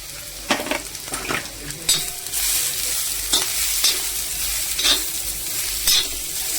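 Onion, grated coconut, ginger-garlic and green chili roast in a pan for palak egg masala, with a constant close sizzle and repeated spatula scrapes every second or so.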